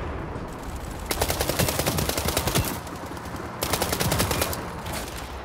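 Gunfire in World War 3, two sustained bursts of rapid automatic fire, loud and close, with a short lull between them.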